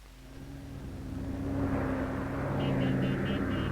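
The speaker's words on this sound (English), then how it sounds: "Overhead, General Key's planes buzz the crowds." Military planes buzz low over crowds in the streets of Da Nang in 1966, a steady engine drone swelling louder as they pass overhead, with a faint pulsing whine near the end.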